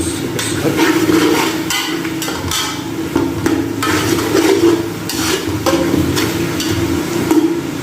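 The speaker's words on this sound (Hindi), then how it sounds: "अभी इसकी भी कुछ आंच ज़्यादा करके लहसुन अदरक के पेस्ट की भी भुनाई करते हैं अच्छे तरीके से।" Garlic ginger paste fries on high heat in a pot, a dense continuous sizzle with repeated scraping and knocking from a stirring spoon, close and loud throughout.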